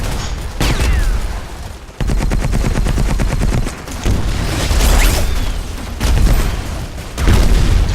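Heavy gunfire barrage in Battlefield Heroes: rapid machine-gun bursts and repeated booming shots pound almost without pause, loud and close, with explosions mixed in across several seconds.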